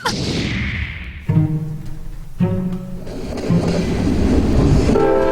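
A loud train rumbles close by at the Wabash train station in Decatur, with rhythmic wheel clatter, its horn blaring in several long blasts over the steady roar.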